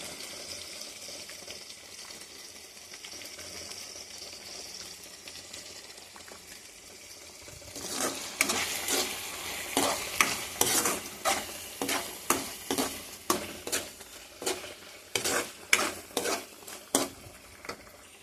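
Spinach and egg stir-fried in a pan: a quiet sizzle first, then a run of sharp, rhythmic scraping and clacking strokes of a spatula against the pan, close and fairly loud.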